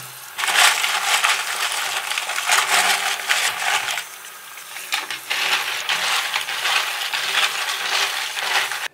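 Amiga 500 keycaps tumbling and clattering in running water during washing, a dense, close, continuous rattle and splash that surges and dips over several seconds with no talk.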